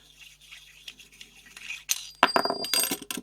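Metal parts of a Helios 44M lens being handled during disassembly: faint scraping at first, then a burst of bright metallic clinks and rattles toward the end, close up.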